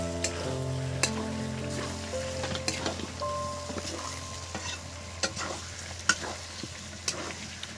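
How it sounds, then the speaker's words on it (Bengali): Tomatoes going into a frying pan for chicken do pyaza, with a soft sizzle under sharp, irregular clinks and scrapes of a spoon stirring against the pan, close and without talk. "বন্ধুরা এবার টমেটো দিয়ে দিচ্ছি।"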